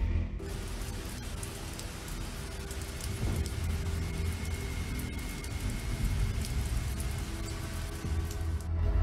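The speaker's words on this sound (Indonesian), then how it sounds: "Terlihat hujan turun di trotoar selama beberapa saat" Rain falls on a sidewalk in a constant, dense hiss picked up by a CCTV camera, steady and unbroken from start to finish.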